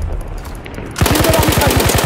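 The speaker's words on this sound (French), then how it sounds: "Une nouvelle arme mitrailleuse." A sudden burst of rapid machine gun fire in Battlefield 1 on the Soissons map, with evenly spaced, loud shots that start abruptly after a second of quiet background.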